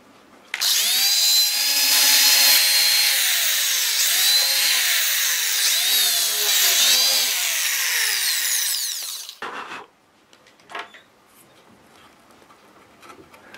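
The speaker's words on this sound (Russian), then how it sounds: "Это у нас сверло-фреза." A loud, high-pitched power drill with a drill-mill bit whines steadily for about nine seconds with rising and falling pitch as it bites in, then stops, leaving a few faint clicks.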